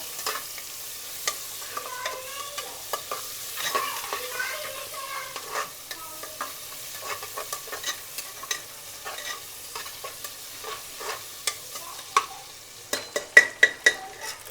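Tomatoes sauté in a pan for chicken biryani, giving a soft, continuous sizzle under repeated stirring scrapes. Sharper clinks of the spoon against the pan come near the end.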